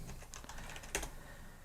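Quiet, brisk tapping on a computer keyboard, a short run of soft close key clicks with one slightly sharper strike near the middle.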